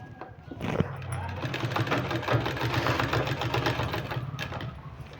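A sewing machine stitches a folded 1.5-inch fabric strip, a close continuous rattling whir with a quick even stitch rhythm that starts abruptly and runs steadily for several seconds.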